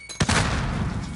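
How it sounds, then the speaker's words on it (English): A frag grenade blows up in a shooter video game: one sharp, loud blast followed by a second of rumbling, crackling aftermath with scattered gunfire-like noise. "Throwing a frag."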